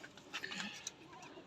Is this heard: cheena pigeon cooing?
yes